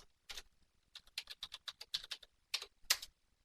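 A password is typed on a computer keyboard: a quiet, close run of about a dozen key clicks in an uneven rhythm, with a short pause before a couple of final heavier taps.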